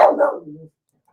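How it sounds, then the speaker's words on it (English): A pet dog barks a few times in quick succession at close range, loud and alone, then stops. "Okay, that was my dog just saying happy birthday."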